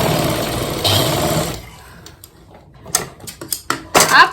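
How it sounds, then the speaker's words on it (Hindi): A sewing machine runs in one continuous stitch while sewing a wrap top: about a second and a half of steady, close mechanical whirring, then scattered clicks and short handling knocks. "आपको सिलाई मशीन की सुई कहीं पे भी नहीं उठानी है"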